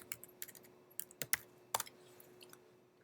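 Typing on a computer keyboard: quiet, irregular key clicks in short clusters with gaps between them, close-up and alone against a faint hum.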